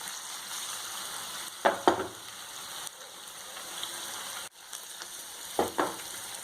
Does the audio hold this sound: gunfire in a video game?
no